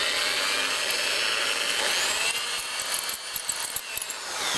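A power drill bores through knife scales for a Beserker wilderness survival knife, a steady high whine with grinding texture that turns into a string of short bursts near the end.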